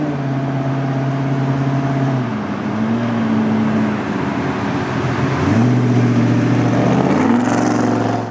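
A lowered 1948 Chevrolet Fleetmaster rat rod, a modified original car, drives along a road with a steady loud engine drone that rises and falls in pitch as it shifts and accelerates, heard up close with no talk.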